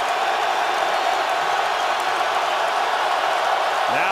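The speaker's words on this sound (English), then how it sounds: "Now the crowd gets loud" At an NFL football game between the Falcons and the Lions at Detroit, a loud, steady stadium crowd roar fills the stands without pause, with a commentator's voice faintly present.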